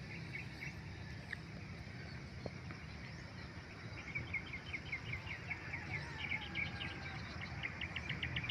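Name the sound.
birds singing over a corn farm in the Philippines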